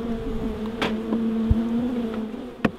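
Honey bees buzz during a transfer into a top bar hive built from a fridge, a steady droning hum with a few bees zipping close past, moderately loud and without talking.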